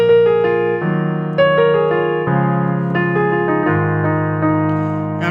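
Piano chords of a song played in the original key, a sustained, resonant progression of full chords changing every second or so, loud and close with no voices.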